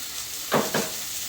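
A spoonful of butter dropped into a hot pan sizzles and is stirred, giving two short bursts of frying crackle over a steady background hiss.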